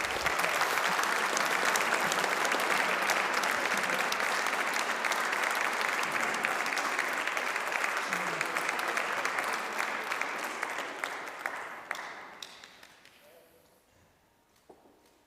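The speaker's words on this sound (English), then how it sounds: "Give them a round of applause as well," A crowd at an outdoor flag unveiling gives a long round of applause, dense and steady at first, then thinning out and fading into scattered claps and quiet murmuring.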